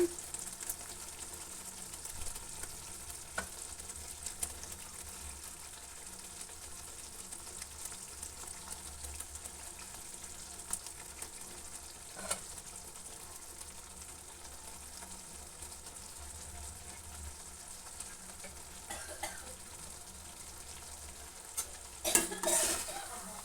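Cut omelette pieces are stirred into tomato curry in a pan, a soft low simmer and sizzle under occasional light scrapes and clinks of a utensil, with a louder clatter near the end.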